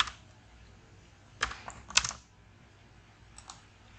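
Keys tapped on a computer keyboard while code is entered in Google Earth Engine, a few separate clicks and short bursts near the start and middle with quiet gaps between, close and fairly soft with no talking.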